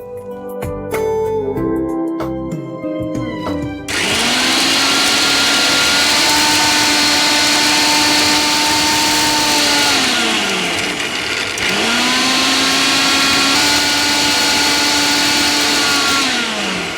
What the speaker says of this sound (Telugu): ఇది మనం ఇప్పుడు మిక్సీ పట్టేసుకుందాం.